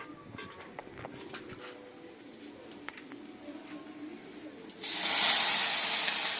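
Food dropped into a hot pan for frying after being boiled, quiet at first with faint background sounds, then a sudden loud, sustained sizzling hiss bursts in near the end.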